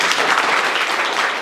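Classroom students clap together in a dense, steady burst of applause that fills the whole moment without a break, with no voices rising above it.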